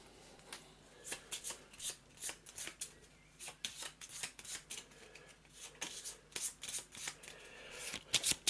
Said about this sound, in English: I'm bloody shuffling, I'm doing it off camera.